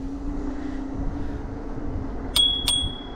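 Two quick bright dings of a small bell on a Navee S65C electric scooter ring out over a low steady hum, close together near the end.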